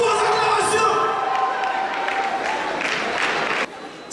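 A crowd at a gospel concert in Aubervilliers, Paris, cheers and claps, a loud, close wash of applause with shouts and whoops mixed in.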